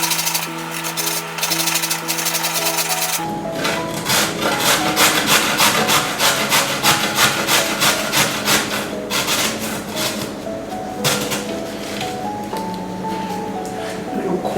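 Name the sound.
knife cutting a carrot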